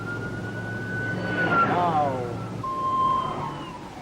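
A distant police siren wails faintly over steady road and engine noise, its rising and falling tone barely cutting through the traffic din.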